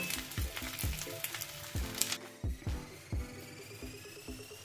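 Dry fish frying in hot oil in a wok, with a continuous close crackling sizzle broken by repeated spatula scrapes and stirring knocks, loud and alone without talk.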